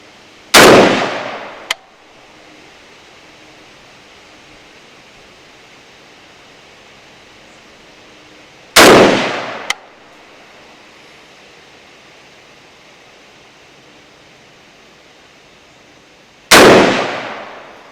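A DSA 58 FAL rifle fires three loud, sharp shots at a 100-yard target, each spaced about eight seconds apart and followed by a faint metallic clink, with quiet outdoor air between them.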